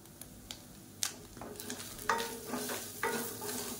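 A spoon stirs and tosses kozhukattai with salt and asafoetida in a pan, giving a few distinct scrapes and clatters over a faint sizzle, close and fairly quiet.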